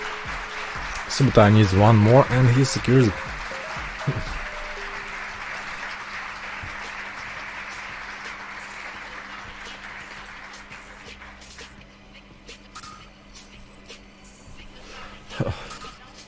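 A crowd applauds briefly and loudly near the start, then fades as a voice talks over a steady background hum.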